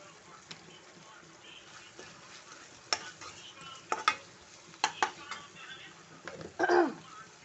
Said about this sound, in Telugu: నేను ఆయిల్లోనే ఫ్రై చేసుకుంటాను